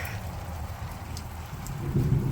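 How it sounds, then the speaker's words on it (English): Rain drums steadily on a tin roof while a low thunder rumble rolls underneath, swelling slightly toward the end. "oh, there's a big thunder."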